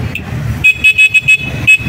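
A car horn on a 2024 NWOW EMC-Golf honks in a rapid series of short, loud beeps, close by, with a brief tap just before.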